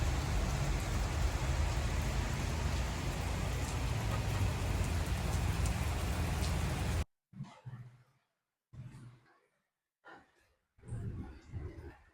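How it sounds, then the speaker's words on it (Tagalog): Heavy rain pours down in a dense, continuous hiss, then stops abruptly, leaving a few faint scattered sounds and brief rustles. "medyo malakas-lakas yung ulan ngayon"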